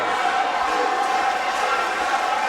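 Boxing crowd shouting and roaring at Pawel Wolak during a bout, a steady loud wall of voices throughout.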